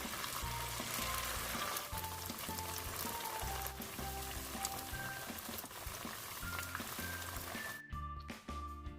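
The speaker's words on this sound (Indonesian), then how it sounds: "Kemudian goreng sampai berwarna keemasan." Battered tempeh and vegetable snacks fry in hot oil, giving a continuous crackling sizzle under loud rhythmic background music.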